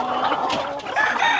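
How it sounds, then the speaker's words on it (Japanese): A chicken clucks repeatedly in a backyard rooster area, close and fairly loud, with a busy run of clucks and squawks throughout and no voices over it. "お、ピープさん、ピープさん、ニワトリとの戦いはどうですか"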